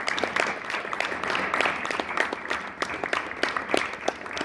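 Students in a classroom or hall applaud their two guests, a steady dense patter of many hands clapping at moderate distance, continuous throughout with no talking over it.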